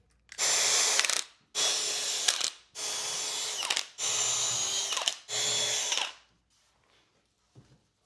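Power drill with a counterbore bit carrying a 6mm pilot, boring pilot holes through a plate on a timber stud wall: five steady whirring bursts of about a second each, separated by short pauses, close and loud, with no talk.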